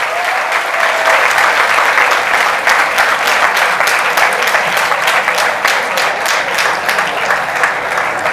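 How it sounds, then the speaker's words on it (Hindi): Loud, sustained applause fills an award ceremony hall during a Saraswati Puja and Republic Day prize distribution, dense steady clapping from a large crowd that carries on unbroken throughout. "जोरदार ताली बजाओ भाई।"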